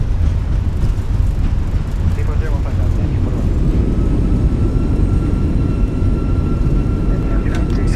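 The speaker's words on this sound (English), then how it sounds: "Goes down gently, reversers are out, decelerating, maintain center line." Airbus A320 landing rollout in a flight simulator, with a steady loud roar of thrust reversers and rumbling deceleration filling the whole stretch, a faint tonal whine running underneath, no pauses.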